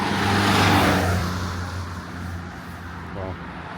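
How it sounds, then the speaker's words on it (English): Road traffic with cars on a UK road in winter, a vehicle passing close and loud at first before settling into a steady engine drone, with a voice speaking over it. "There's traffic. We have traffic ahead of us."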